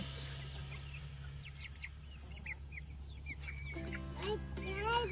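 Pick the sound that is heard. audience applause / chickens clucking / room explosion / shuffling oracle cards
chickens clucking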